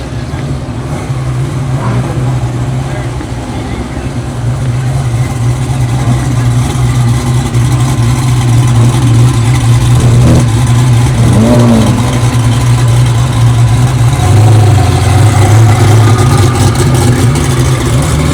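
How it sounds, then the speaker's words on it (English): A Hennessy Venom supercar's engine runs loud and steady at the Goodwood Festival of Speed, with a deep continuous drone that swells into rising revs partway through, set against outdoor crowd ambience. "I was really surprised at how loud the Hennessy Venom was."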